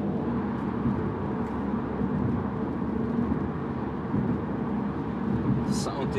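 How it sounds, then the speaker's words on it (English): Inside a 2017 Mercedes-Benz CLA cruising at 120 km/h, a steady broadband road and wind rumble stays constant and moderately loud throughout, with no clear voices. "We're now traveling 120 kilometers per hour."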